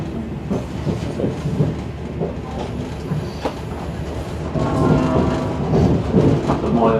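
Arriva Trains Wales passenger train on the Shrewsbury to Cardiff run, heard from on board as a steady rumble with rhythmic wheel clicks over the rails, growing somewhat louder midway through.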